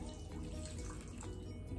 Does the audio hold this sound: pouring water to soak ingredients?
yes